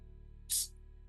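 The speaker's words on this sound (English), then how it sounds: "And I'm going to spray your sacral chakra." A single short hiss from a spray bottle during a quiet chakra and reiki relaxation session, soft and close against a faint background hum.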